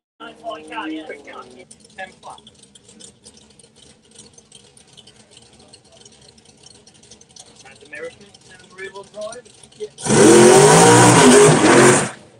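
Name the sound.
BMW X3 M car driving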